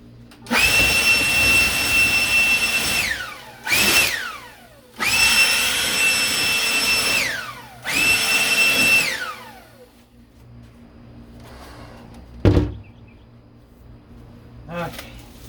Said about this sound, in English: Let's blow this dust off first.